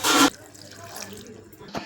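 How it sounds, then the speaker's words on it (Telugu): Cut spiny gourd pieces are washed in water. A short burst of running, splashing water opens the clip, followed by quiet handling sounds and a faint splash near the end. "కోసుకున్న తర్వాత వాటర్లో మంచిగా కడిగి పెట్టుకోవాలి"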